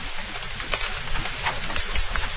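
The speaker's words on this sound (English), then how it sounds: "Can you hear the drips of water dropping through the tree leaves?" Rainwater drips through tree leaves in the Hoh Rainforest of Olympic National Park, a dense hiss of scattered patters and soft drops close around, with no voices.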